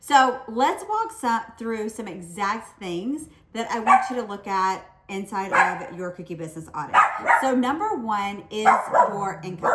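A dog barks in the background of a home office, heard only in short bursts beneath steady, close talking that dominates throughout.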